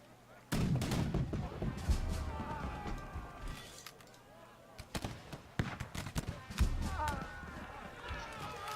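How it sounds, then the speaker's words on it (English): March to Glory video game cannons fire in a skirmish, several loud booming blasts at irregular intervals among battle noise, with someone talking over them. "Cannons, of course, punishing the square, which you do."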